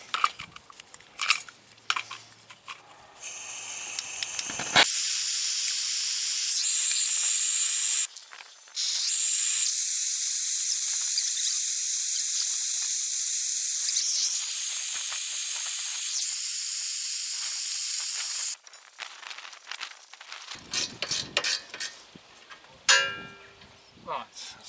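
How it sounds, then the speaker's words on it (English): A blowtorch heats a seized bolt on the rear wheel bearing of a Jaguar X-Type diesel, giving a loud, close, steady roaring hiss for about fifteen seconds, with a brief gap, between quieter clanks of tools. "So get out with the blowtorch and a 13mm spanner."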